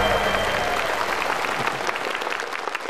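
A studio audience at a Vietnamese televised student quiz show applauds in a dense, steady burst of clapping that gradually thins toward the end.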